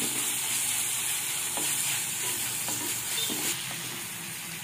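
Shallots, green chilies and garlic paste sautéing in a pan, giving a dense continuous sizzle with a few soft stirring knocks, close up and with no voices.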